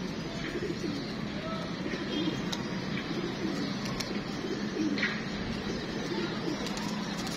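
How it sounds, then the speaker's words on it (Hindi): Soft, low pigeon cooing repeats over steady outdoor background noise, with a few faint chirps and rustles mixed in. "ये कबूतर है, ये हमने कबूतर पकड़ा था जी।"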